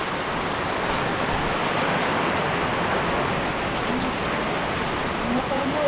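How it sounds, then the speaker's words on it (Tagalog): A dense, continuous roar of heavy typhoon rain pouring steadily, close and loud without letup. "lakas ng ulan"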